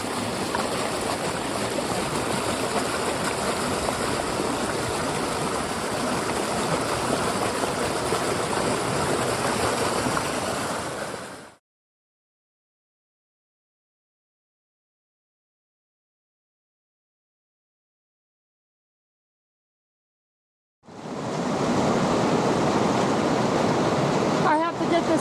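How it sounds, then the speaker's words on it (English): A fresh mountain river swollen with Nevada snow runoff rushes in a steady loud roar beside a gold sluice, cutting to silence midway before the continuous torrent resumes. "the sound of a fresh mountain river from snow runoff"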